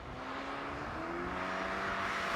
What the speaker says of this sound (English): push on, as you can probably hear now, and it makes that telltale whining from under the bonnet